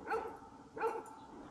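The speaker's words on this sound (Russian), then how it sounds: "Понял, чувак, что ты гавкаешь, а?" A dog barks twice outdoors on a roadside during a motorcycle trip in Croatia, two separate mid-distance woofs about 0.7 seconds apart over a low background rumble, with no talking.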